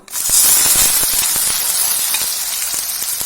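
Bananas dropped into caramelized sugar and ghee burst into a loud, bright sizzle that holds steady, with quick spatula clicks and scrapes ticking through it up close and no voices.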